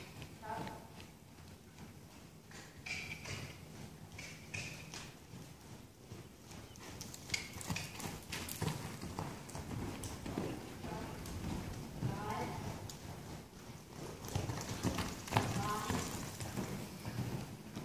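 A horse moves at a trot with steady, fairly close clip-clop hoofbeats over a rustling outdoor background, while a person talks at times.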